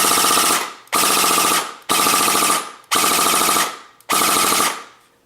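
Five sustained bursts of rapid full-auto fire from an SRC XM8 airsoft rifle on a low battery, each about a second long with brief gaps between, loud and close with a buzzing mechanical rattle.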